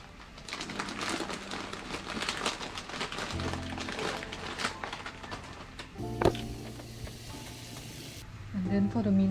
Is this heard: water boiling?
yes